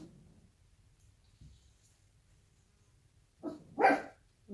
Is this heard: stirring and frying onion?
no